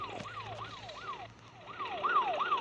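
A rapid wailing ambulance siren in a car parking video game sweeps up and down in quick repeated cycles, fairly clear and steady, with no voices.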